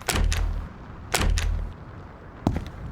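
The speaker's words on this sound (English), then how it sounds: "Close the doors." Doors closing in the survival shooter Road to Vostok, three heavy thuds with sharp attacks, the first two close together and a third after a pause, each with a short rumbling tail.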